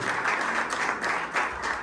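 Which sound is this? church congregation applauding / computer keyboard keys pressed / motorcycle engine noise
church congregation applauding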